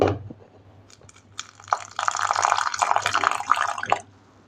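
Water is poured into a bowl of salt and red chili powder in one steady stream lasting a few seconds, close and fairly loud, preceded by a few small clinks.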